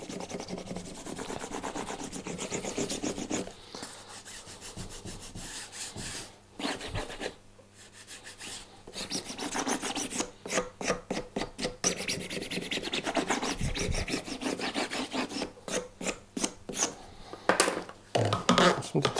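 A book spine being firmly rubbed down during hand bookbinding, with close, repeated rasping strokes in bursts, a short pause partway through, then quicker rhythmic rubbing.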